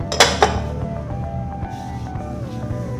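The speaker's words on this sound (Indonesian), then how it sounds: "Kita aduk semua bahan." A utensil stirring ingredients in a bowl during home cooking, with two sharp clinks near the start and then softer scraping and knocking against the bowl, close and fairly quiet.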